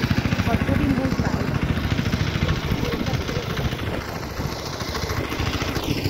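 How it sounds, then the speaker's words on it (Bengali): A bhotbhoti, a country motorboat with a putt-putting engine, chugs past on a river near a bathing ghat, a loud, steady rapid thumping close by that fades slightly toward the end, with people talking over it. "ভটভটি নৌকা যাচ্ছে, দেখেছো"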